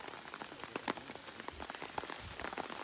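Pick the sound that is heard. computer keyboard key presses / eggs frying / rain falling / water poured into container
rain falling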